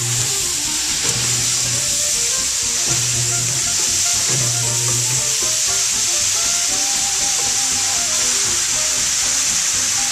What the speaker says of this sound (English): then we're going to turn on the bottom mixer